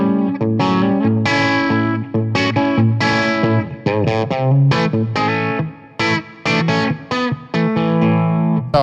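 Electric guitar through a Suhr Shiba overdrive pedal, mostly clean but slightly gritty, overdriven tone, playing chords and single notes with brief pauses, loud and close with no talking.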